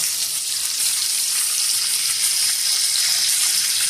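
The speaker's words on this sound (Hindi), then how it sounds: "तो इसमें ये प्याज भी डालें, और इसको अच्छी तरह जो है वो फ्राई करें" Onions frying together with spicy chili chicken wings in a pan over a medium stove, a steady bright hiss of sizzling oil that runs unbroken and fairly loud, with no voices over it.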